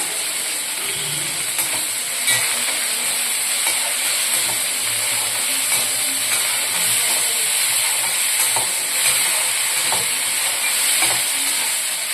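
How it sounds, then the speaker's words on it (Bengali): Potatoes frying in a pan give a loud continuous sizzle and hiss with occasional stirring scrapes and clicks, close by and steady from start to end, with no talk. "আলুগুলো বেশ ভালোভাবে ভাজতে হবে এবং পরিমাণ মতো নুন দিলাম"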